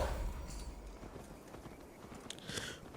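Horse hooves clip-clopping at a steady gallop while riding through an Assassin's Creed Valhalla game world, rhythmic thuds under faint ambient game sound, no voices.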